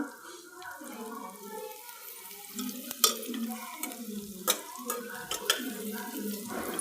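Ancient Indian grain roasts in a pan with onion, producing a quiet sizzle and intermittent stirring scrapes and taps, while someone talks throughout over the cooking.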